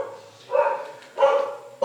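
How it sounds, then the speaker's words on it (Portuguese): Dogs bark in short loud bursts, three barks spaced about a second apart, close by and with no talking. "Os cachorros estão atrapalhando um pouquinho"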